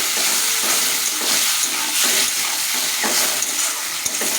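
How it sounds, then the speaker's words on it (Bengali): Ground cumin and coriander spice paste sautéing in a pan gives a steady sizzling hiss. Repeated stirring scrapes run through it, with no voices. "ভালো করে আমি কষিয়ে নিচ্ছি।"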